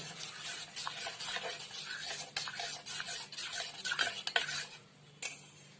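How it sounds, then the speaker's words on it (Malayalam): A spoon stirring and scraping a creamy mixture in a pan on the stove, with steady rubbing strokes and clinks of metal against the pan, close and moderately loud, no talk. "ഇങ്ങനെ ഇളക്കിക്കൊണ്ടിരിക്കണം, ഇല്ലാന്നുണ്ടെങ്കിൽ അത് കട്ട പിടിക്കും."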